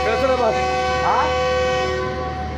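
The Karakoram Express sounds a loud, sustained horn as it departs Khanewal Junction station, a steady harmonic tone held over rumbling rail noise, with a brief second toot partway through.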